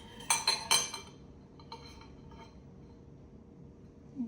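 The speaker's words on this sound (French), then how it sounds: "On va enlever la cuillère." A spoon clinks against a container used for mixing slime, giving three bright, close taps in quick succession and then a few faint knocks before it goes quiet.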